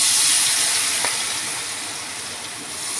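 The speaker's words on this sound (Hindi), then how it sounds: "एक तरफ वो फ्राई हो गया है, उसको पलटते हैं हमारे छिट्टे हुए पकौड़ी को" Pakoras of batter sizzle softly in hot oil while being flipped in the pan, a steady faint hiss with a brief clink partway through.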